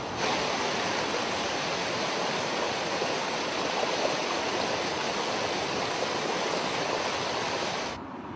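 Rapid river current rushing over a diagonal boulder weir, a steady dense roar of turbulent water holding even and loud throughout with no voices.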